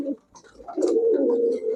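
Red brick-coloured pigeons at a pigeon shop give a low, sustained coo close by, following a brief softer call, with faint chatter in the background.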